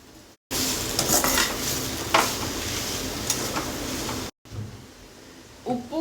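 A spoon stirs a sweet corn and mashed potato mixture in a hot pan, giving a continuous scraping, sizzling rustle with scattered clinks against the metal, broken by a couple of brief pauses.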